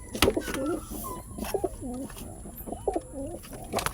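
Pigeons coo nearby in repeated throaty, rolling phrases, several in a row with short pauses, over a light background hiss.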